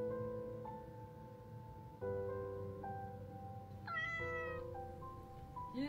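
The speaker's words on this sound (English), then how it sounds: "Oh, that's your cat." A house cat meows a few times, fairly close, over a steady tonal background, with one higher, brighter meow near the end.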